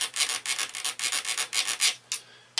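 A small hacksaw blade rasps back and forth against wood to scratch a mark while fitting a ramrod pipe on a Kibler Southern Mountain rifle kit, giving about a dozen quick, close scraping strokes with a short pause near the end.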